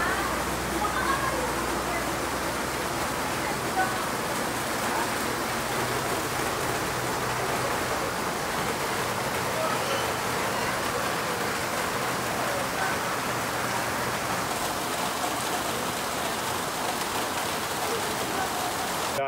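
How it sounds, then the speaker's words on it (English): Heavy rain pours down steadily in a dense, broadband hiss that stays constant and close the whole time. "It's raining like crazy."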